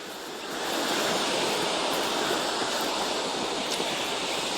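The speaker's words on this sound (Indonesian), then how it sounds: "suara ombaknya kedengeran guys" Steady wash of ocean waves from a nearby beach near a house, a continuous broadband roar that swells in within the first second and holds evenly, with no voices.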